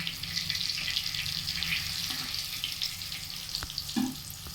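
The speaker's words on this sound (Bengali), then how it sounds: "একদিকটা ভেজে নিচ্ছি ছোট ছোট হালু হলে এই সমস্যা হয় ওলটাতে প্রচুর অসুবিধা" Small potatoes frying in oil in a pan, a soft steady sizzle with occasional clinks and scrapes as they are moved, fairly quiet.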